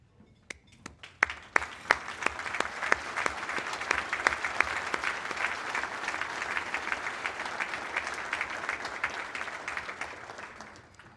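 An audience at an Armed Forces Day luncheon bursts into sustained applause, with a few sharp early claps swelling into a dense, loud round of clapping that holds steady and fades slightly at the end.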